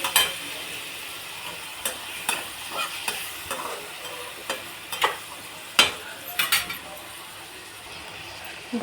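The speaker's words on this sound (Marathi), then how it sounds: "त्याच्यात टाकू दही दही हलवून घेऊ" Yogurt is stirred into sizzling pulao masala in a pan, a soft frying hiss beneath repeated scraping strokes and clinks of a spoon against the vessel, the knocks irregular and fairly close.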